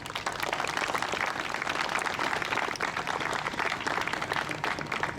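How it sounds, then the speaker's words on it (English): A crowd at a survivors' opening ceremony applauds steadily, a dense even wash of clapping held for several seconds with no gaps, moderately loud and heard without voices. "Let's give them a round of applause."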